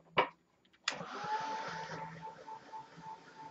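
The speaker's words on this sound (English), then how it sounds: "let's give them a dry with the heat gun" A heat gun blows steadily after a couple of clicks, a continuous hiss with a faint tonal whine, used to dry paper craft pieces coated in wet medium for a February 2018 scrapbook page.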